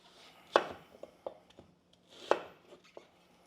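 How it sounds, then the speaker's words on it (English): Several crisp knife chops on a cutting board cut roasted salsa ingredients, drained tomatoes among them, into chunks, coming in two uneven bursts of firm thuds with short pauses between, close and clear with no talking. "I'll just chop this in chunks."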